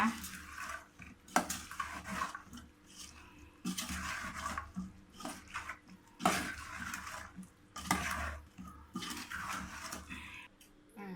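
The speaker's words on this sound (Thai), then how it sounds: "แล้วก็คนนะคะ" Pork larb with sliced spring onion stirred in a bowl, repeated scraping and clinking of a utensil in irregular bursts, with soft wet mixing sounds close by.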